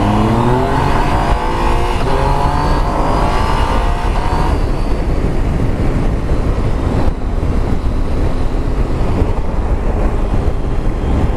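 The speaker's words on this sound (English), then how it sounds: "So this is a Triumph Tiger 800" Riding a 2018 Triumph Tiger 800 with A2 restriction: the engine rises in pitch as it accelerates, then settles into a loud, steady drone, buried under heavy wind rush.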